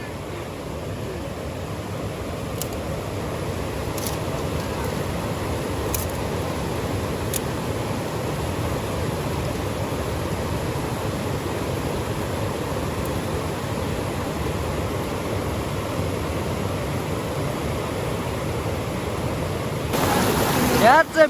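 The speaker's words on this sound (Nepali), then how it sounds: "बगेको पानीलाई चाहिँ फ्रिजको रूपमा चिसोमा चिसो बनाएको" Stream water rushes in a continuous, even wash, with a few faint high ticks early on and a brief louder rustle near the end.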